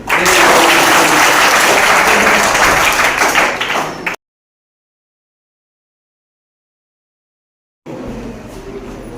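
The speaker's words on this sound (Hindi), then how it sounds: "चलिए ताली बजाइए" Loud, dense clapping from a school audience at an Ambedkar birth anniversary event, cutting to dead silence partway and resuming briefly at the end.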